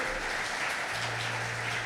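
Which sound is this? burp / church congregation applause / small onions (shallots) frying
church congregation applause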